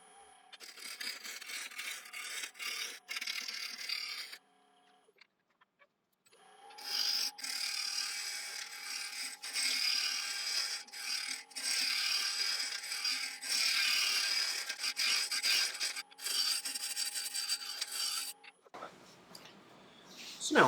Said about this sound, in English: So I'm going to start off with a spindle roughing gouge.